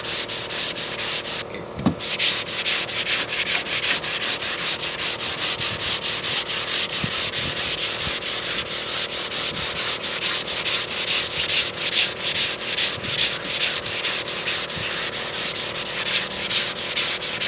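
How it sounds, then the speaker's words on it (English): Steady, continuous rubbing of a sanding block over a dented car body panel on a 1998 Toyota Sienna, loud and close, with rhythmic back-and-forth strokes and a brief pause near the start. "So here I go sanding this, block it on nice, no pressing, just take your time and go with it."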